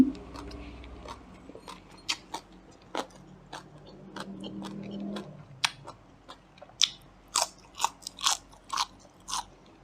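Snail curry (om bak hoi) being eaten up close, with a run of sharp crunchy bites and chewing clicks that grow denser toward the end, over a low background hum.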